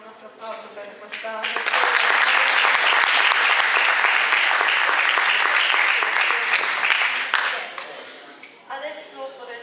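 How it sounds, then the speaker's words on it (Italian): A crowd at an Italian gathering gives a loud, sustained round of applause, preceded and followed by someone speaking, the clapping swelling quickly and tapering off before the talk resumes. "possiamo anche fare un altro applauso per questa"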